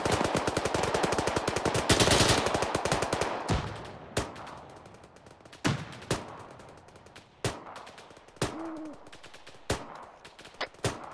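Covering gunfire in ArmA 3 during an Afghanistan deployment, opening with a dense burst of rapid automatic fire, then sharp single shots and short bursts spaced a second or two apart, some echoing into the distance.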